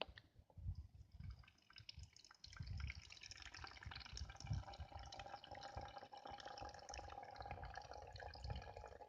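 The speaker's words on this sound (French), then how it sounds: "maintenant, je peux remplir la gourde d'un pote" Water poured through a filter into a friend's water bottle, a soft steady trickling fill with gentle gurgles and drips, close and continuous throughout.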